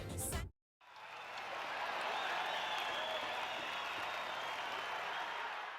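A crowd claps in a live version of a soundtrack song from NEO The World Ends With You. A short musical burst cuts off, then dense, sustained applause swells and continues to the end.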